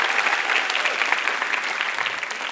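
A studio audience at a televised stand-up comedy competition applauds after a comic sings the Betawi ondel-ondel song, dense steady clapping that stays fairly loud and even throughout with no voices over it.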